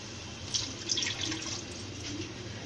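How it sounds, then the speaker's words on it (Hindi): Milk pours into a pan of melted sugar syrup while shahi zarda, a sweet rice dish, is being made, giving a steady soft splashing and trickling with a few brighter drips, fairly quiet and without talk. "अब इसमें मैं डालूंगी दूध।"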